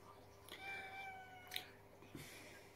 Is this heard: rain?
no